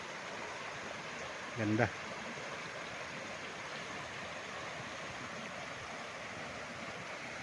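A creek flowing beside a farm lot in Majayjay, Laguna gives a steady, even rushing wash throughout, with a short word spoken over it.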